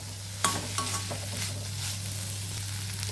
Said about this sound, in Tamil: இந்த சிக்கன் ஃப்ரை பண்ணி வச்சுருக்கிற சிக்கனை இதில் போட்டு ஒரு நிமிஷம் கொஞ்சம் நல்லா வதக்கிட்டு